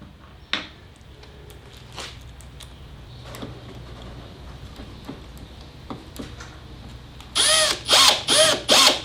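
A power drill drives screws while an inner drawer is fitted into a DIY drawer build: faint clicks and knocks of handling, then four loud, short bursts of the drill whirring close by near the end.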